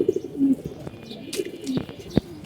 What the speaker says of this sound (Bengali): কবুতরটা অনেক বড়, মাদি হিসাবে কবুতরটা অনেক বড়।